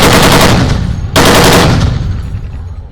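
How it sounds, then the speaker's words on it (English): An external 50-caliber machine gun mounted on top of a real tank fires loudly: a continuous, heavy, booming roar with a brief break around one second, then firing again and fading away. "it could be mounted on top with an external 50 caliber machine gun. Now this is very, very loud"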